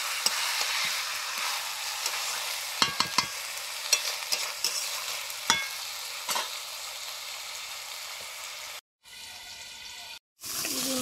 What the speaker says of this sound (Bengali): ঢাকা দিয়ে দিয়ে ভালো করে কষে নেব মাংস।